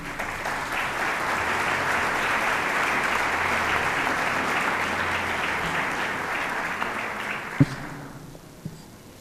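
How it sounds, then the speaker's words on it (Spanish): Warm audience applause at an educators' forum greeting a guest speaker, steady dense clapping that holds for several seconds, then tapers to a few scattered claps and a thump before quiet. "Recibamos con un fuerte aplauso a nuestro conferencista invitado."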